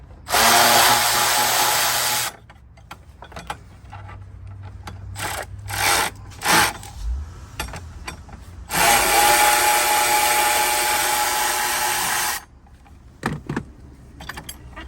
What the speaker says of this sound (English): Now we gotta actually remove the hold down bolts